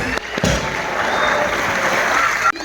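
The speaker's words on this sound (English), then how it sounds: "Please give a round of applause." Audience applause at an annual school function, a dense steady wash of clapping filling the room loudly and continuously, with a couple of sharp knocks near the start and end.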